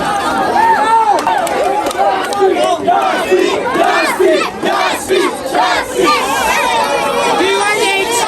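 Rap battle crowd roars and jeers in a loud, chaotic burst of shouting voices and babble, rising and falling without pause for the whole stretch.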